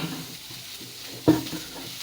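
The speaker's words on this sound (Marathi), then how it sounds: "कांदा व्यवस्थित भाजून घेणार" Onion frying in oil with turmeric in a kadhai: a soft, steady sizzle with light stirring, and a single sharp scrape or clink of a spoon against the pan near the middle.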